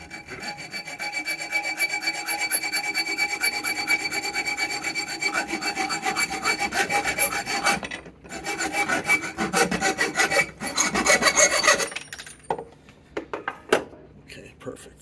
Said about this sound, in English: I'm just going to hacksaw this part off where I marked it.